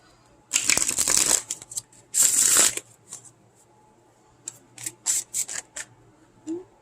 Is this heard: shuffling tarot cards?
yes